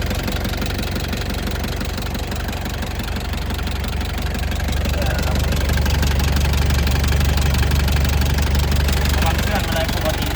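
A used Nissan pickup with a red-top engine idling nearby, giving a steady low rumble with a fast ticking knock that grows slightly louder halfway through.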